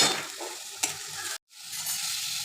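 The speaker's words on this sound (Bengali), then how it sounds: "এবার আমি দিয়ে দিচ্ছি ওই মশলার পেস্টটা, আর দিয়ে দিলাম হলুদ, লঙ্কা গুঁড়ো, কাশ্মীরি লঙ্কা গুঁড়ো আর লবণটা" Spice paste with turmeric, chilli powder, Kashmiri chilli powder and salt sizzles and is stirred in a pan, a close, steady frying hiss with scraping strokes and a sharp clack, cut by a short silent gap before resuming.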